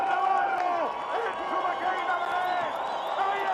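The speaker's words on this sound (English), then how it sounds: "And they are singing for him and cheering." A home crowd at a freeride ski and snowboard event in Baqueira Beret, Spain, sings and cheers in a steady, distant wash of massed voices with a few whistles on top.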